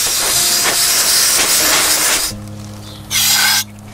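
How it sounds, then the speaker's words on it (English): Compressed air blasts soot off sooty parts from a UK caravan in a long loud hiss, then stops briefly before a second shorter burst, with a low hum in the gap. "I'm just going to use my compressed air to clean these things"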